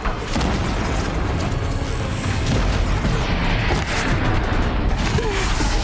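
Cannon being destroyed in the video game Horizon Zero Dawn: a dense, continuous roar of game combat with booming explosions and crashing impacts filling the whole stretch, loud and up close.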